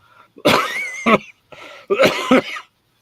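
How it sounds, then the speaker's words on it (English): Several loud, harsh coughs close by in two bursts, a rough hacking pair followed by another pair after a brief pause. "Just still got that nagging cough."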